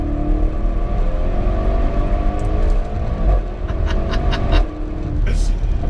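A Porsche Panamera Sport Turismo accelerating flat out, with a loud, steady engine roar that rises in pitch and is broken by a few brief clicks and shifts.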